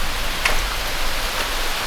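Steady rain falls on a remote mountain site where an old stone wall is being rebuilt as a concrete retaining wall, heard as a loud, continuous hiss close by, with no voices.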